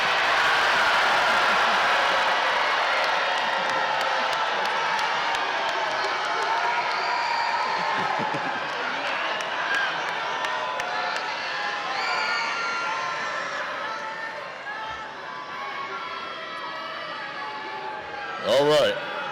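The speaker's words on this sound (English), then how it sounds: "I want you right now to yell out your baby's name as loud as you can so they can hear you." A large crowd of parents yells and cheers at a high school commencement ceremony, a loud, sustained roar of overlapping voices and shouts that holds steady and tapers slightly toward the end.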